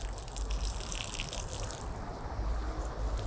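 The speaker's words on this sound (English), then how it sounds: "I'm going to take off my wash mitt and wring out any kind of dirt and grime that's on there." A wet car wash mitt being wrung out by hand during a car wash, producing a steady splashing gush of water that runs continuously and fairly close, with no voices.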